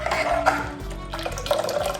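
Water splashes and gurgles steadily as it is poured into a cooker holding raw mango puree for rasam, close and fairly loud for about two seconds with no talk.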